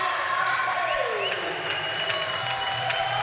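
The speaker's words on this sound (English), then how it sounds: "the crowd are absolutely piling in to the Sports Centre" A packed crowd fills a university sports centre before the BUCS Big Wednesday final between University of Essex men and Durham, a steady, dense roar of chatter and cheering that never lets up.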